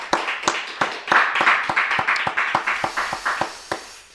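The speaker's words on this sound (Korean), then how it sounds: "우리 하나님께 영광의 박수 올려드리겠습니다." A church congregation at a Sunday afternoon service applauds after a prayer, sharp rhythmic claps ringing out together close by, then slowing and thinning toward the end.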